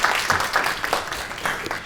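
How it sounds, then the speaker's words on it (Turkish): Audience applause after a corporate talk by a Yeşim Tekstil communications director: a brief, close burst of many hands clapping, fairly loud and continuous for just under two seconds. "Bilgilerinize büyük bir alkış için."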